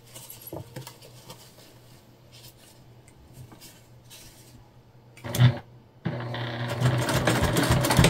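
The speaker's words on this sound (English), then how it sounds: "Now we're going to baste together our gusset pieces so that they don't separate." A sewing machine bastes gusset pieces together, with quiet fabric handling and rubbing at first, then a brief whir and a steady, loud, rapid stitching run.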